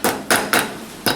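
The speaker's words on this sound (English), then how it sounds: "a tack hammer and just kind of lightly tap it" A tack hammer lightly taps a wheel bearing into place on a Miata rear hub, four sharp metallic taps heard close up with even spacing.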